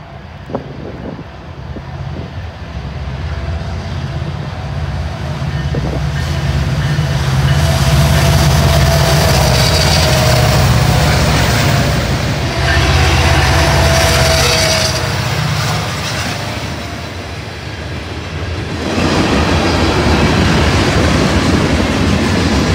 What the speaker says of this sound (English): First was a Norfolk Southern mix freight with an Ace leading and a WFRX SD70 Mac in second